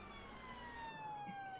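Ambulance siren from the Emergency Ambulance Simulator video game, a steady, loud electronic wail sweeping slowly downward in pitch, sounding continuously over engine rumble with no talk.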